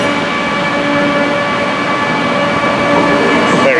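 Train 17508 pulling into a station platform in Birmingham, a steady loud rumble and hum of the locomotive with tonal whine, constant throughout, no speech.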